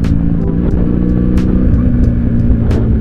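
A Benelli Patagonian Eagle 250 cruiser motorcycle runs with a steady, close, low exhaust rumble, broken by a few sharp exhaust pops and crackles.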